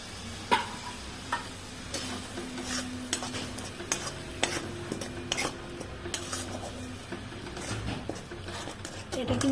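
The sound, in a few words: stir-frying borali fish with onion and chili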